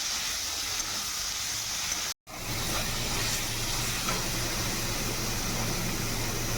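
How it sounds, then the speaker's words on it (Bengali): A spice paste of garlic paste, chopped tomato, salt and turmeric fries in a pan with a steady, dense sizzle and hiss. The sound cuts out for a moment, then carries on evenly. "কাটা টমেটো, পরিমাণ মতো নুন, হলুদ দিয়ে মশলাটাকে ভালো করে ভেজে নেব।"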